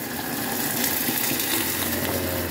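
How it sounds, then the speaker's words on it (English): Hot water pours steadily onto katsu cubes while cooking tori katsu, a continuous splashing rush at close range with no talking. "Put some hot water on it."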